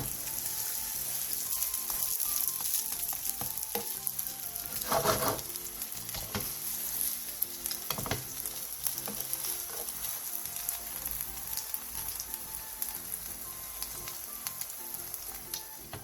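Potato pizza batter fries in a pan with a steady, soft sizzle and crackle, while occasional faint scrapes and taps of a utensil sound over it. No voices.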